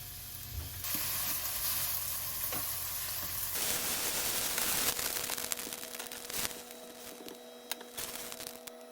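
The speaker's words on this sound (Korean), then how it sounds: "팬에 기름 안 두르고 그냥 구워요" A burger patty sears in a pan with no oil, giving a steady, close sizzle and crackle that is loud at first, then settles to a thinner hiss dotted with small pops and ticks.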